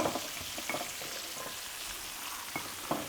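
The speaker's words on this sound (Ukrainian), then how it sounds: "Ми домовилися, що ми не смажимо до готовності реберця, а присмажимо їх тільки." Pork ribs lightly browning in a frying pan, a steady close sizzle with crackles and occasional stirring clicks, no speech.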